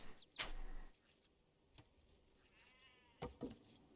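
A few short sheep bleats from a real-time strategy game, quiet and spaced apart, with small clicks and game sounds between them and no talking.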